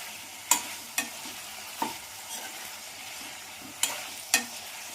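Fried garlic chicken being tossed in sauce in a pan, a quiet background sizzle punctuated by about six sharp, separate clinks of a spoon against the pan; no voices.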